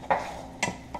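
Garlic sizzling in a pan as shrimp, tomato and basil pasta is started: a soft steady frying hiss with a few louder scrape-like bursts of stirring, close and alone without talk.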